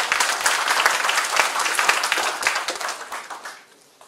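Audience applause rising in a dense, sustained burst of many hands clapping at a motivational talk on herbal products in Indonesia, loud and steady before tapering off near the end.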